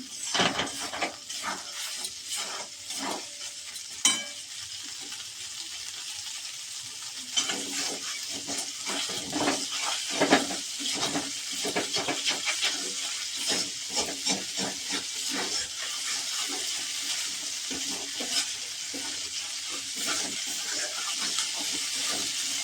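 Ginger sizzles and fries in hot oil in a pan for broccoli kachori, a steady bright hiss running throughout with occasional stirring scrapes and small crackles, close and continuous with no talking.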